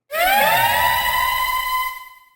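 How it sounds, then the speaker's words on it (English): A siren sound effect in a music intro, one sharp rising wail that starts abruptly, holds a bright sustained tone, then fades out after about two seconds. "I put a little siren sound effect."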